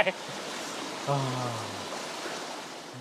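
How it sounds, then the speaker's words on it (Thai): A small mountain stream flows gently with only moderate current, giving a steady close rush of water, broken by a brief voice-like sound partway through. "ผมกับมั่วก็มาอยู่ในลำธารแห่งหนึ่งนะครับ มันก็ น้ำก็แรงไม่แรงมาก สักเท่าไหร่นะครับ เป็นลำธารเล็กๆนะครับ"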